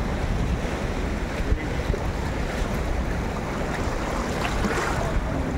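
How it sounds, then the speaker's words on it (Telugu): Sea waves roll and crash continuously at a beach in Vizag, a steady broadband roar of surf mixed with wind buffeting the microphone, with no voices present. "ఈ అలలు ఇవన్నీ కూడా బాగా విపరీతంగా అలలు వస్తున్నాయి చూడచ్చు"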